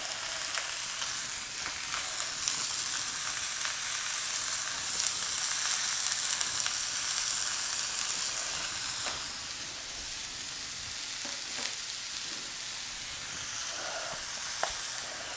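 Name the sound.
wagyu and bacon wrapped hot dog sizzling while charring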